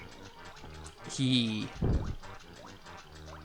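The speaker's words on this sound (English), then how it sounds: "I guess I can just walk through the water" A character wades through water in Banjo-Kazooie, making a couple of sloshing, gurgling splashes while someone talks over the game sounds.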